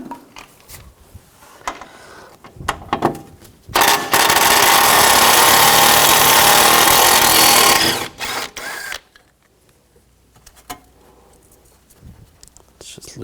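A 12mm socket working an AC condenser bracket loose on a 2004-2009 Toyota Prius: scattered sharp clicks and taps, then about four seconds of loud continuous motorized whirring, followed by more intermittent clicks and handling noises.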